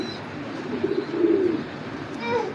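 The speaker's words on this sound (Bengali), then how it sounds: "এটা আর্মি লাইনের কবুতর।" An army line pigeon coos softly in a couple of low, throaty phrases, close to the microphone. Faint background noise sits underneath.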